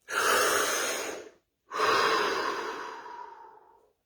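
Two long, deep breaths, heard close and alone. Each airy exhale fades gradually, with a short silent pause between them.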